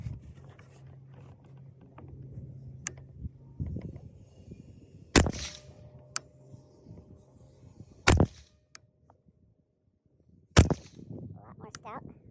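An AR-style rifle with a 12.5-inch Grendel barrel fires 123 grain Hornady ELD Black rounds outdoors. Three sharp, loud single shots come several seconds apart, with quieter handling noise and faint clicks between them.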